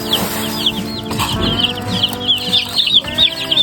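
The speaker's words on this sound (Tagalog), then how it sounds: "Kasi gutom na tong mga manok dito." Several hungry chickens cluck and chirp close by in the morning in quick, overlapping bursts, with light scuffling and shuffling noises underneath.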